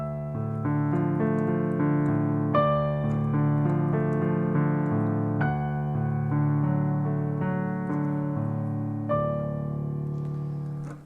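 Solo piano plays the ending of a piece with the right-hand notes struck straight, no roll-up, as a steady sequence of sustained chords and melody notes that ring out and fade at the close.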